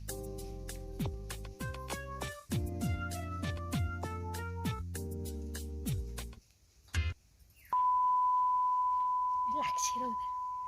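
After a stretch of melodic ringtone-like music, a phone dial tone starts, a steady unbroken electronic hum that holds near and clear to the end, with a brief voice sound just before it.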